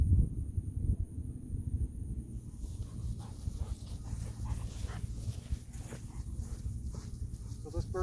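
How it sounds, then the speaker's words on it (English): A hunting dog held on a leash whimpers and whines during a bird-dog training session, the sounds close but mixed with shuffling footsteps, rustling and muffled voices. "Jim's gonna run his dog. Somebody needs to hang on to him."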